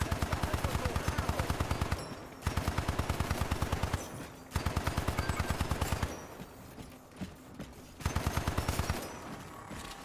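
Turret gunfire in the video game Hypercharged Unboxed: rapid automatic bursts of several seconds each, separated by short pauses, fairly quiet in the mix, with no talking.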